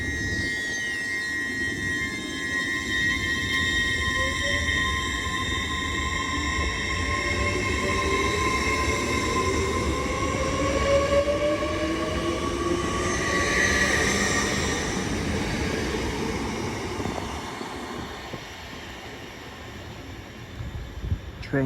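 A Class 802 TransPennine Express train pulls out of Newton-le-Willows station bound for Newcastle, its engine hum and wheel noise rising and sweeping steadily past at close range for about twenty seconds, with faint squeals and no talk.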